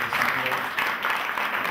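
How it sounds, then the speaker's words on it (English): Church audience clapping for visiting guests from Bread of Life Ministries, a steady wash of applause over a short stretch with a voice speaking over it. "Come on, give them a round of applause."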